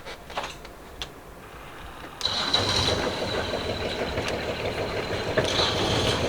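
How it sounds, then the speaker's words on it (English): A Yanmar 29 horsepower engine on a Leopard sailing catamaran cranks briefly, then catches and settles into a steady, loud idle close by. "Engine start."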